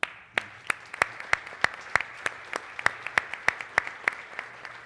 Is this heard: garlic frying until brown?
no